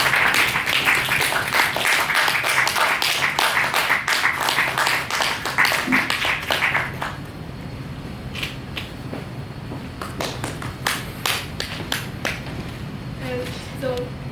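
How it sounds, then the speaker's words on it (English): Audience applause at an opening-day event in Singapore, dense and loud for about seven seconds, then dropping to sparse individual claps and a few voices. "Please give him a big applause."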